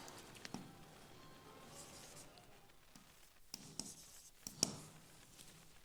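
A pen writes on paper in a Hindi maths lesson, soft scratchy strokes and taps coming in short, irregular bursts, faint and close.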